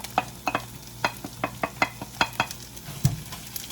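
Shredded cheddar and Parmesan are stirred into spaghetti squash in a pan: a steady run of about a dozen quick scraping strokes over a faint sizzle, close and fairly quiet.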